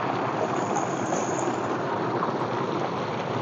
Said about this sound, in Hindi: ये ठंडा ठंडा पानी और साफ पानी बिल्कुल ट्यूबवेल का